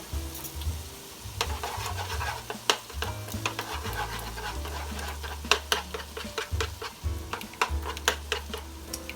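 Eggs are scrambled in a pan for keto cauliflower fried rice, with repeated scraping and tapping of a utensil against the pan over a soft sizzle, steady and close, without talk.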